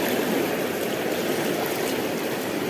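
River current at Calumpang, Liliw, Laguna, with a steady, dense rush of flowing water, close and continuous, with no voices.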